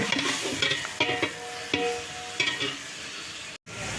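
Chopped onions, tomatoes and green chillies sauté in hot oil, a loud close sizzle broken by several bursts of spoon stirring and scraping against the pan, with a brief cut near the end.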